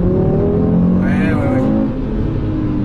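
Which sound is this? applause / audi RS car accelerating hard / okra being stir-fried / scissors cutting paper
audi RS car accelerating hard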